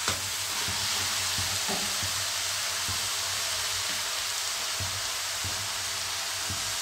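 Mixed vegetables sautéing with spices in a pan, a loud continuous sizzle and frying hiss with soft periodic scrapes and knocks of stirring, close by, with no talk.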